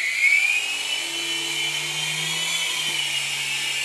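A Syma S107N infrared-controlled toy RC helicopter spins up its rotor, giving a steady high electric whine with a droning hum beneath that shifts pitch slightly as the throttle eases back, close and continuous with no talking.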